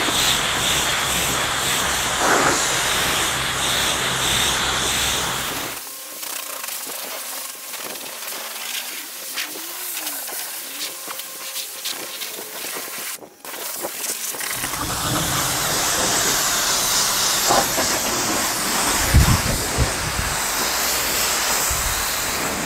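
A pressure water spray hisses loudly over a Jaguar XKR during a rinse, broken by a long quieter stretch in the middle before the strong spraying resumes.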